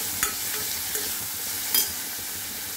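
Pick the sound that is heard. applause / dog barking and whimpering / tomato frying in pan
tomato frying in pan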